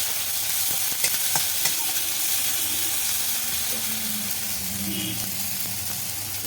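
Tomato and green chili frying in a pan with a steady close sizzle and occasional stirring clicks, faint talk underneath.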